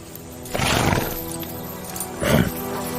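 A Kelpie, a horse-like creature, gives two loud, close neighs, one short burst early and another near the end, with quiet background between them.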